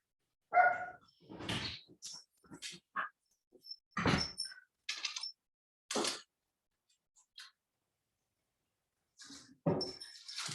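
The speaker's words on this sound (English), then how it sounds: "My dogs want in and they just keep barking" Dogs bark in scattered short bursts, somewhat muffled and distant, with quiet gaps between the barks.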